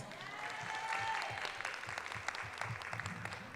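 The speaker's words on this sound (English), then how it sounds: "Give Bushman a round of applause." Applause from the audience at a suicide prevention community forum, a fairly quiet, continuous patter of hands with a faint tonal ring and low murmur underneath.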